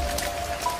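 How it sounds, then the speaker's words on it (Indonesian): Heavy rain pours steadily onto a road, a dense, continuous wash of drops that stays loud and even from start to finish, with no voices. "rintik hujan berubah menjadi deras, membuat jalanan semakin licin dan berbahaya."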